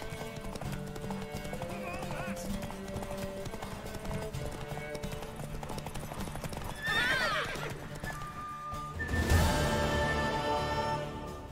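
Horse hooves clip-clopping steadily and a loud whinny near the end, from a horse in the video game The Witcher 3: The Wild Hunt, heard over continuous game music and ambience.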